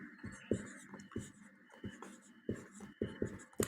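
Chalk or marker strokes on a classroom board, a series of short scratchy taps and scrapes in irregular bursts with brief gaps, fairly close and clear, a faint murmur of voice in the background.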